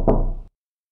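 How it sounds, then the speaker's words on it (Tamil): A door is struck with a single dull, close knock that stops abruptly into silence. "திடீர்னு பார்த்தா யாரோ உங்கள் கதவை தட்டுறாங்க"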